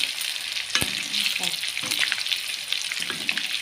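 Pork sizzles loudly in a hot pan over high heat, a constant crackling hiss with occasional clinks and scrapes of stirring.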